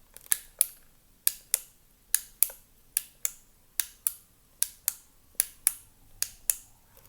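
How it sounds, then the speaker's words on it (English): A flashlight switch clicked on and off again and again, sharp crisp clicks coming in quick pairs at an even pace, close and alone with no other sound. "When you click a flashlight on and off,"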